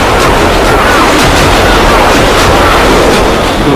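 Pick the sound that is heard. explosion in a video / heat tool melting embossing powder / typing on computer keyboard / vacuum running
explosion in a video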